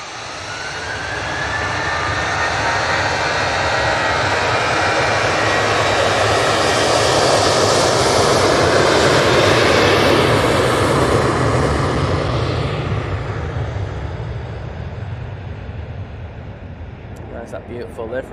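A jet airliner departing Manchester Airport for Rome builds into a loud, rising engine roar with a whining tone, peaks mid-way, then recedes as it climbs, with faint clicks near the end.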